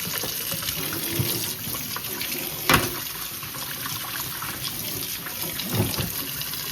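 Hot tap water runs steadily into a basin, a continuous hiss with a couple of brief splashes, close and moderately loud, no talking.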